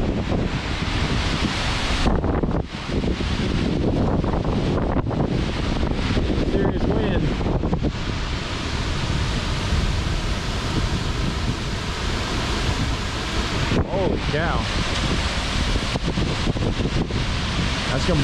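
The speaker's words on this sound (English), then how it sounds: "Yeah, it's windy." Strong wind roars steadily and buffets the microphone, with gusts rising and falling throughout and faint talk now and then.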